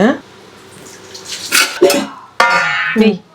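A lid set down and pressed onto a container of milk with lemon in a home kitchen, giving a couple of sharp clattering knocks amid soft handling noise, with a voice speaking over part of it.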